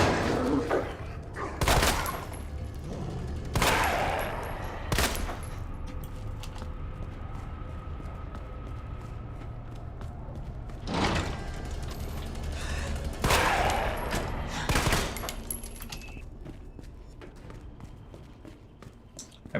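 Gunfire in the Resident Evil 2 Remake video game: sharp, loud single shots spaced several seconds apart, some in quick pairs, over a low ambient game background with footsteps between the shots.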